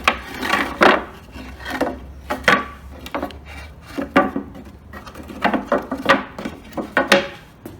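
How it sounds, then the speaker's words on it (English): Lengths of timber 1200 mm long, slotted into the cracks between pallet slats while building a pallet couch: a run of close, irregular wooden knocks, scrapes and rubbing taps, with no voices. "I've got some 1200 long pieces of timber and I'll just slot those into the"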